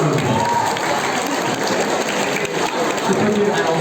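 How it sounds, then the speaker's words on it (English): Audience applause at a biology student summit prize-giving, a dense steady wash of many hands clapping close and loud throughout, with some crowd murmur mixed in. "big round of applause"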